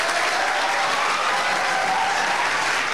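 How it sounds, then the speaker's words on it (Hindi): Students at a coaching institute applaud together, steady loud clapping from a large group throughout, with no talking. "एक बार ताली बजाओ।"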